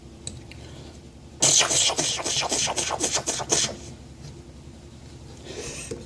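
A voice imitates a double cannon, making a rapid burst of explosive, booming blasts for about two seconds, loud and close, then falls quiet.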